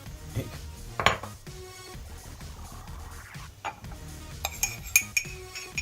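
A metal spoon scoops ground coffee and clinks against a cup or jar, giving several light, irregular taps and chinks at close range with soft rustling in between.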